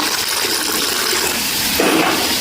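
Water is poured into a pot of vanpayar (cowpea) curry in one loud, continuous close gush with no pause.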